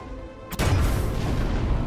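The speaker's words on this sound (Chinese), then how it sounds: "于是他们决定在下面进行定向爆破" A directional blast set off underground in a mine where miners are trapped deep below: one sudden deep boom, followed by a sustained heavy rumble that fills the rest of the moment.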